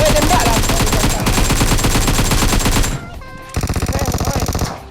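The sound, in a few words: gunfire in PUBG Mobile video game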